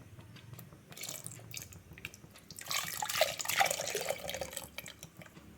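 Water is poured into a clay pot of ground masala for a mackerel curry, a close splashing, trickling pour that swells midway, with faint dripping before it.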